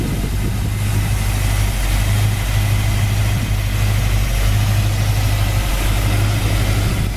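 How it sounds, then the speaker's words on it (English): A 1967 Ford Mustang Convertible engine idles steadily up close, a smooth, even low rumble that holds constant throughout with no voices. "The engine runs nice and smooth."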